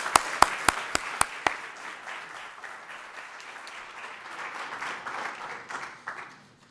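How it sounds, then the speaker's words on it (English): A few sharp, loud claps ring out, then a crowd at a university business competition breaks into sustained applause that swells and slowly fades. "A round of applause."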